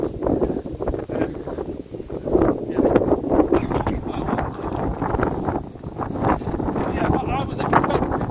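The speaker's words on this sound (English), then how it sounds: "Are you catching the wind, look? It's windy." Gusty outdoor wind buffets the camera microphone with continuous low rumbling and uneven surges throughout, heard on an airgun range.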